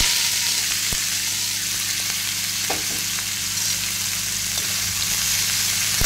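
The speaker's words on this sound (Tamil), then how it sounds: "இதை லேசாக வதக்கணும்." Vegetables sauté lightly in a kadai with a loud, dense, continuous hiss of frying, marked by an occasional faint clink of a spoon.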